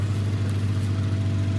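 A car engine drags a load during a rescue at the Zhinvali Reservoir, giving a steady, close, low droning hum that holds even throughout with no voices.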